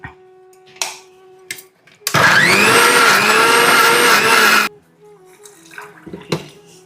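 An electric mixer churns curd into butter, a loud, steady whirring grind that starts abruptly, runs for about two and a half seconds and cuts off, framed by quieter knocks and clatter before and after.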